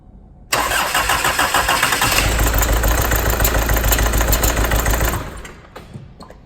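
A car engine cranks briefly, catches and settles into a steady, loud idle nearby, then the sound drops away at the end, with no talking.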